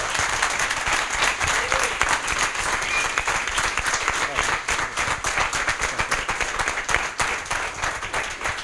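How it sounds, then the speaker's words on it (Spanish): Audience applause at a live talk, dense sustained clapping from a crowd, loud and even throughout with no break. "Me gustaría que el aplauso para Luis también fuera como de rockstar"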